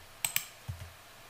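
Computer keyboard keys on an AZERTY layout are pressed in a quick run of about four light clicks, close and crisp against a quiet background.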